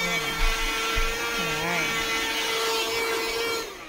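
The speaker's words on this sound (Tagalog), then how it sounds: "Cordless vacuum." A Philips cordless rechargeable vacuum cleaner runs with a steady, fairly quiet motor whine throughout, while a person speaks briefly over it.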